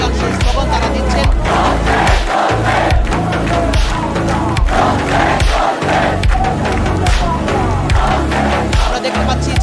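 Students gathered at Shaheed Minar in Dhaka chant protest slogans together, a loud, continuous crowd roar with rhythmic shouted cadences and music groups among them, filling the whole stretch without a break.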